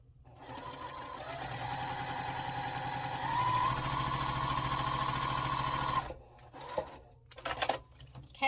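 A sewing machine stitches a sampler quilt block with a steady, fast mechanical whir for about six seconds. It then stops, leaving a few soft handling clicks and rustles.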